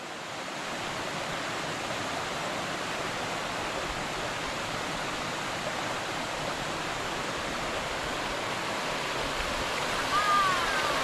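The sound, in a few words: waterfall at secret falls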